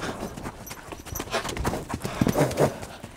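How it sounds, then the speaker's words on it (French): A horse walking at a slow pace during equine-assisted therapy in La Canourgue, its hooves clip-clopping in an irregular rhythm close by, with faint ambient noise and no voices. "Le cheval avance, c'est un nomade."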